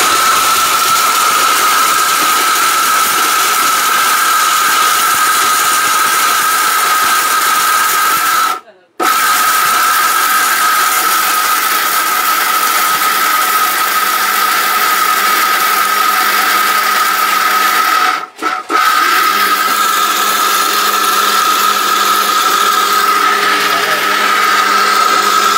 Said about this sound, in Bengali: এই 800 ওয়াট 7 বছর রিপ্লেস গ্যারান্টি ইন্ডিয়ান একটা ব্লেন্ডার, অরিজিনাল